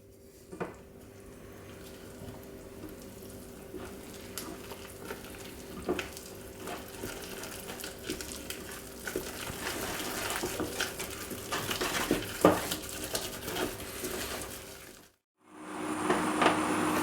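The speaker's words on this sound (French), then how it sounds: "je mets toute ma farine et je mélange" Flour stirred into melted butter and liquid in a saucepan for choux pastry dough, a continuous soft sizzling, scraping and sloshing that grows slightly busier before a brief pause and a resumption.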